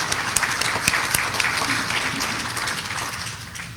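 Applause breaks out for chapter co-chairs at an annual business meeting, a steady wash of many hands clapping in a hall, with a few sharper claps standing out and a slight fade near the end.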